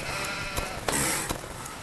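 A sheep in the video game Duck Simulator gives a short, hoarse bleat, a brief burst over steady, noisy game sound.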